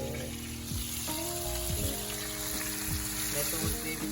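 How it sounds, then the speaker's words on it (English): Food sizzling and crackling in hot grease in a New Orleans home kitchen, a steady frying hiss running throughout with music and faint voices in the background. "I hear that good old sizzle"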